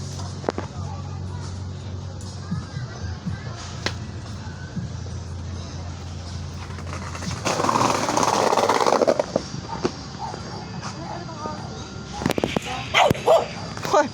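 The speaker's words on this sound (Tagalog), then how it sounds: "Nagalit na sa'yo yung aso." An angry dog barks in short, sharp bursts under a steady low background hum, fairly close, with a louder stretch of noise midway and a few quick yips near the end.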